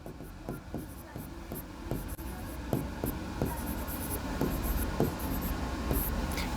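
Chalk or marker scratches and taps across a board during a maths lesson on linear equations, a steady series of short strokes with faint background hiss, no voices.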